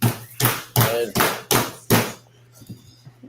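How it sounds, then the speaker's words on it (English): A child hammers on a tricycle nearby, six sharp, loud strikes at an even rhythm followed by a few fainter taps, with a steady low hum beneath. "Doing some hammering in the background there"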